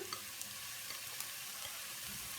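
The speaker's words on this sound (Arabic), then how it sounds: "اول ما البصل يكبر هنبتدي نحط كل المكونات التانية بتاعتنا اللي هو المشروم والبيف بيكن" Onion, mushrooms and beef bacon frying in a pan give a dense, even sizzle throughout, close and steady with faint crackles and no voices.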